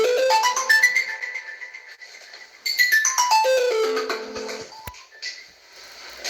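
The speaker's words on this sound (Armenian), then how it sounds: "հաջորդ թեւ ունենք հեռախոսազանգ, տեսնենք ով է զանգահարում" An electronic ringtone plays a bright descending melody twice, loud and close, with no talking.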